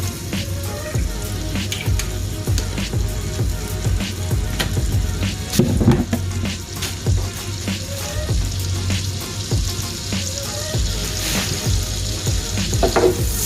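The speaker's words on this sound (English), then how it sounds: "So to our pan I'm going to add a little butter. Get that melted. And then I'm going to add a little oil" Butter and oil melting in a pan for beef stroganoff give a loud, continuous crackling sizzle, close and dense throughout, with occasional faint clicks and no voices.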